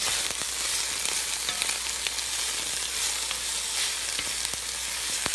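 Leafy greens, purple kale and Swiss chard, sizzling in oil in a pan, a steady close crackle with a few sharp pops and no voices.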